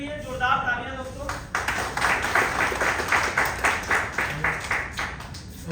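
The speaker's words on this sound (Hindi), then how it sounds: "तो एक बार इस प्लान के लिए जोरदार तालियां दोस्तों" A crowd at a business plan meeting breaks into applause, with a voice speaking briefly at the start before dense rhythmic clapping takes over and carries on steadily to the end.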